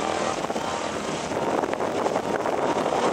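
A C-53 propeller airplane at an airshow drones steadily and loudly throughout, its engine roar a continuous rumble that swells slightly toward the end, with no pauses.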